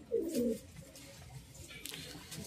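A Giribaz pigeon gives one short, close coo at the start, followed by a quiet room with only faint rustling and soft background noise.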